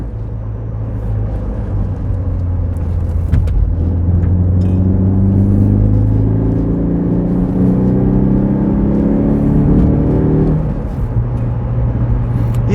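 Citroën C4 warm hatchback engine under load while driving, a steady droning rumble with rising and falling pitch as revs build and ease, cabin hum continuous and fairly loud.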